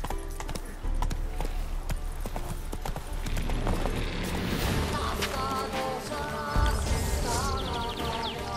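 A horse gallops in The Witcher 3, its hooves drumming a fast, steady clip-clop rhythm close by over game ambience and music, the pace growing busier toward the end.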